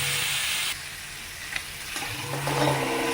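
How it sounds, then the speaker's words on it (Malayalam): Chinese potatoes (koorka) being stirred in a pan for a mezhukkupuratti stir-fry, with a steady close sizzling hiss and soft scraping, no voices. "കൂർക്ക നമ്മൾ നല്ലോണം മിക്സ് ചെയ്തെടുക്കാം."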